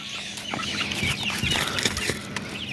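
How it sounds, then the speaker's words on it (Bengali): Golden chickens kept on a rooftop in Bangladesh cluck close by in a busy, overlapping chorus at dawn, with a few sharper calls standing out over a constant background hum. "একটা মুরগি বাইর হয়ে গেছে।"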